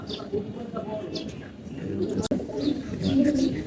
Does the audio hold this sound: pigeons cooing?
yes